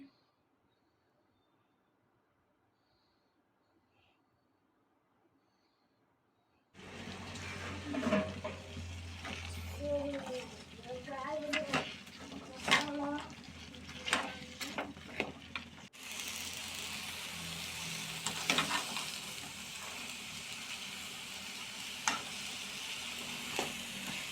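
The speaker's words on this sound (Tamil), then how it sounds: "நல்லா கிளறி விட்டுக்கலாங்க" Cluster beans with onion and tomato are stirred and sautéed in a pan, with sizzling and frying hiss. Scraping stir strokes clatter through the middle, after a near-silent opening, and the sizzle brightens toward the end.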